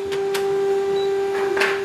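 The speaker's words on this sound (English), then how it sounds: "Switch on the printer." A Canon imageCLASS MF654Cdw printer powers on with a steady mechanical hum, a few soft clicks and a brief whirring stir near the end, heard close and alone.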